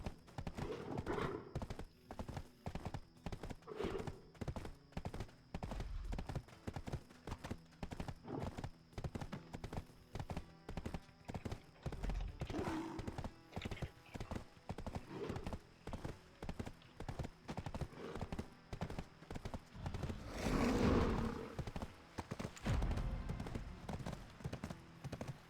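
Horse hooves clip-clopping in the Black Desert Online video game, a quiet, steady rhythmic stream of hoof strikes with an occasional neigh and faint talking in places.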